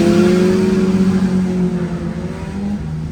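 Car engine revving hard and steadily with a slipping clutch during a hot race, a loud close droning roar with a sustained tone that sags slightly toward the end.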